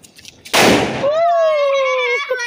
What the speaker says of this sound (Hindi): ये शायद बाहुबली बम है, इसका बहुत धमाका, इसका बहुत ज़ोरदार होता है।